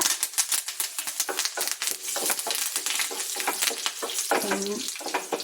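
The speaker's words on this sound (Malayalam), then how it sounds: "കടുക് പൊട്ടി നമുക്ക് 2-3 ചുമന്ന മുളകിടാം. എന്നിട്ട് 2 തണ്ട് കരിയാപ്പില," Mustard seeds, two or three dried red chillies and curry leaves fry in hot oil for a papaya pachadi. Dense rapid popping and crackling, close and loud, with brief bursts of spluttering throughout.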